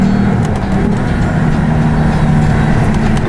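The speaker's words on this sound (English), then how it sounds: "And all I'm doing is blipping the throttle." The engine of a 2007 Lexus IS 350 rises in a loud, steady rev as the throttle is blipped during a downshift, heard from inside the car with a continuous low drone.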